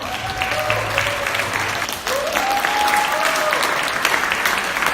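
An audience at an award ceremony gives Birgit Lao a steady, dense round of clapping that holds at an even level throughout, with a voice on a microphone drifting faintly over the applause.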